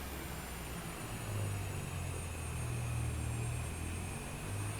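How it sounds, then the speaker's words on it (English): Cessna Longitude jet taxiing on the steep mountain runway at Lukla in Microsoft Flight Simulator, a steady low engine rumble and whine that swells slightly midway and holds at a constant moderate level, with no voices. "and I recorded the taxiing"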